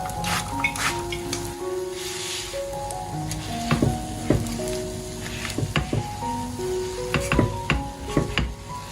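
A glutinous rice cake with red bean filling pan-fries slowly over low heat, giving a soft, steady sizzle with scattered light clinks and scrapes close by; no voices.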